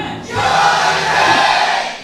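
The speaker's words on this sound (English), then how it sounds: "I tell you, this crowd tonight is crazy." A packed crowd at an esports StarLeague studio roars and cheers loudly after a brief quiet start, holding a dense, sustained wall of noise.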